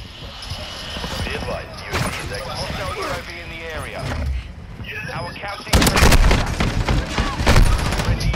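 Shotgun blasts in Call of Duty: Modern Warfare II on the Embassy map, sharp broadband bursts over busy game ambience, with a louder close barrage in the last few seconds while a player talks throughout.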